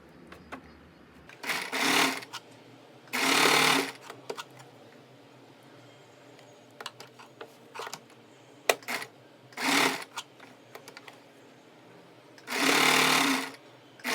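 A sewing machine joins lace onto a folded one-inch palazzo hem in short motor bursts, four or five runs of a couple of seconds each, separated by quiet pauses with small handling clicks.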